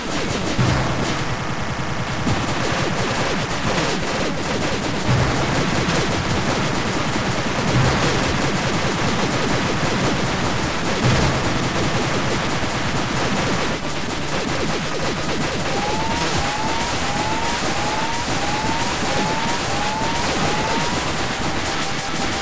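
Constant weapon fire from the video game Cave Story, during a boss fight: a thick, noisy barrage of rapid shots that goes on without stopping, with game tones chirping over it near the end.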